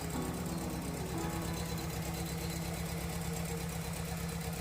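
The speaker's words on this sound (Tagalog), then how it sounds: "maingay lang yung tambutso" A 2011 Chevrolet Aveo (Daewoo) engine idles steadily, its rough, rumbling exhaust with a faulty muffler chugging without pause from start to finish, close and constant.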